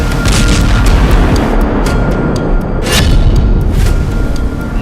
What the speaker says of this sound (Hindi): फिर सुरंग को ही धमाके से उड़ा दिया